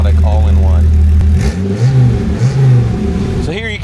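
Third-generation Dodge Viper V10 with side pipes, a loud, lumpy exhaust rumble close by that blips and revs in a few surges, with someone speaking over it.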